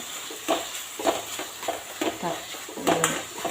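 Spices fry in a pan as a spoon stirs them, giving soft sizzling and repeated scraping clinks about every half second, close and moderately loud, with a faint voice in the background.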